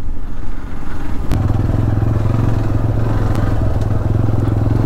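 Motorcycle riding along a narrow forest road in the Kallar forest area, engine droning steadily and loud throughout with rumbling, clattering road and wind noise, no talking.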